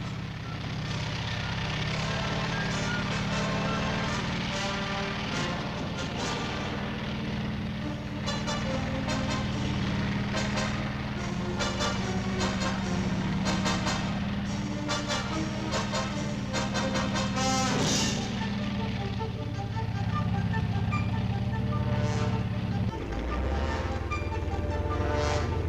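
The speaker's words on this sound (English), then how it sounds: "These are M48 tanks, the fast-moving cavalry of the 20th century." M48 tanks drive past in a steady, loud rumble of heavy engines and clanking tracks, with dense mechanical noise throughout and a deep surge near the end.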